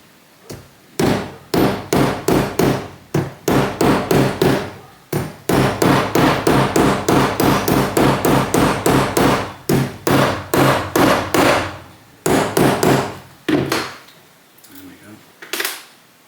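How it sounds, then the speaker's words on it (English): Steady, rapid hammer taps strike a metal planer hinge in close, loud bursts of sharp metallic knocks, pausing briefly between runs. "it'll be nice steady taps"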